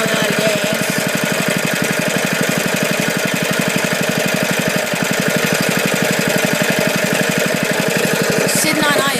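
A Liftan 6.5 hp small engine idles loudly and close with a fast, steady chugging beat, running on until its fuel is spent.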